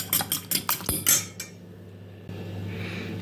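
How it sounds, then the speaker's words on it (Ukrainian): A fork beats two eggs with salt in a bowl: quick rhythmic clinks against the dish for about a second and a half, then quiet. "Взяла два яйця, так виделкою трішки їх збиваю"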